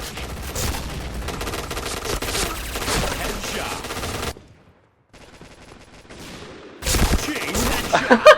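Rapid automatic fire from a silenced P90 in the shooter game Point Blank, bursts of loud rattling shots that stop for a quiet gap before another sharp volley erupts.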